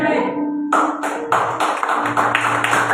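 Church congregation applauding during a Spanish-language sermon: a burst of dense clapping starts partway through and continues in uneven surges, loud and close, with a low sustained tone underneath.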